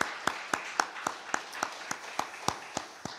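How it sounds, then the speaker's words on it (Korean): A church congregation at Sunday worship claps in a slow, even rhythm, roughly a dozen sharp unison claps spaced evenly, moderately loud and close. "하나님께 영광의 박수 올려드리겠습니다."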